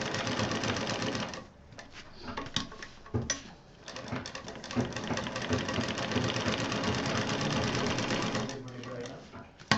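A sewing machine stitching a round table cover backed with chart paper, its fast steady whirring run near and loud with brief pauses, while a person talks over it.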